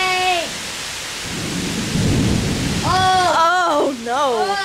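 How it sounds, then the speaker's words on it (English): Heavy rain pours during a severe thunderstorm, a loud, steady hiss with a deep rumble of thunder rising midway. A voice speaks over it in a wavering, pitch-sliding tone. "Sheets of rain are falling."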